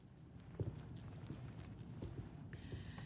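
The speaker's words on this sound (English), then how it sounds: "You guys hear those footsteps?" Steady footsteps in Alan Wake 2, a run of hollow, clip-clop-like thuds over a dark ambient background, with a few sharper knocks and a faint high tone entering near the end, no talk.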